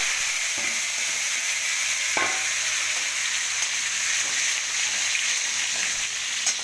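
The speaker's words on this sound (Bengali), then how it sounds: "এখন দিচ্ছি কড়াতে, আলুগুলো একটু ভেজে নিই।" Potatoes fry in oil in a kadai with a steady, dense sizzle close by, broken by a few soft clinks and scrapes, with no talking.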